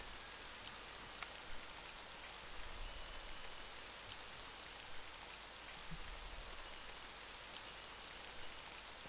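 Steady rain falling in the video game Roller Coaster Tycoon 3, a continuous hiss of drops on surfaces with occasional low thumps, faint and with no talk.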